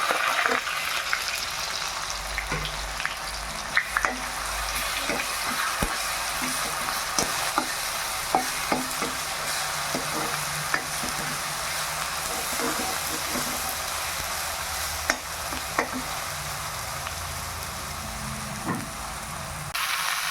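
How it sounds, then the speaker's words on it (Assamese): Onions and bay leaves frying in a pan, a steady close sizzle with scattered clicks and pops from stirring, continuous throughout. "পিঁয়াজখিনি ভাজা হৈ গ'ল, ব্ৰাউন কালাৰ হৈ গ'ল।"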